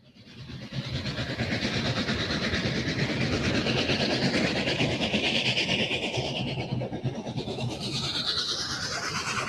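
The Union Pacific 844 steam locomotive departs North Platte with support cars and a short freight train, a steady rumbling roar of moving train that builds quickly and holds, with rhythmic clatter, heard alone.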